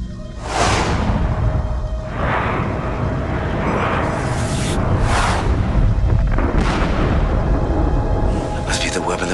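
Weapon fire from the PlayStation game Wing Commander IV, a series of loud booming blasts and whooshing bursts repeating across the span over a steady rumbling background.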